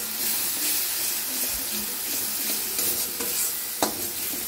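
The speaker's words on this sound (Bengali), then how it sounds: "মশলাটা এবার আমি কষিয়ে নেব" Spice masala fries in oil for a chhana curry, with a constant loud sizzle and hiss under irregular stirring scrapes, plus one sharp knock near the end.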